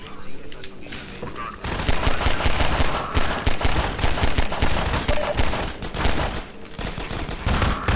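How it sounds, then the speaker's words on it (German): Machine gun fire in the video game Half-Life 2 Episode One: dense, loud bursts of rapid automatic shots crackling continuously for several seconds amid chaotic combat noise, with a voice talking briefly. "da ist ja schon das Maschinengewehr"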